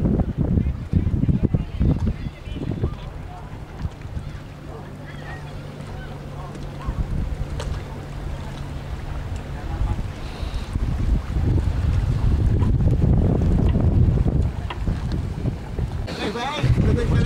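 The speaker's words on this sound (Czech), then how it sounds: "na vodu se spouští malá plachetnička" Wind buffeting the microphone over water, with low rumbling gusts and lapping sounds as a small sailboat moves along outdoors.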